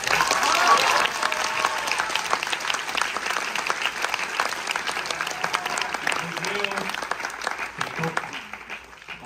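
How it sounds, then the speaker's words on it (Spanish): A theatre audience applauds after a play's premiere performance, sustained clapping that is loudest at the start and slowly thins toward the end, with voices talking over it. "Un aplauso para todos."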